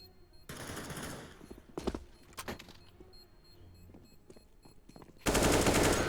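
Gunfire from an AK rifle and pistols in a Counter-Strike match: a burst of automatic fire, a few sharp separate shots, then a loud sustained spray at the end, with no voices.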